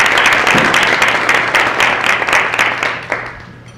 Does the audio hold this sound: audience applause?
yes